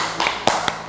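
A few sharp hand claps, about three spaced beats, during a children's clapping routine at a church kids' festival, fairly close and without speech.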